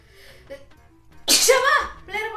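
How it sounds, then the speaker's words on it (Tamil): A single loud, close sneeze bursts out with a voiced, drawn-out tail during a sneezing challenge, after quieter murmuring and followed by a short vocal sound. "எனக்கு 2 தும்மல் வந்துருச்சு."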